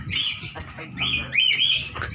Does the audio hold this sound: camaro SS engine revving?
no